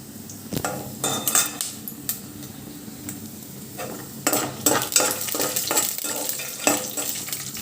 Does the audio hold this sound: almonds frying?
yes